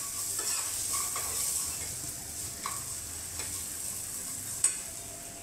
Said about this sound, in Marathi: हे सगळं असं परतवून घ्यायचं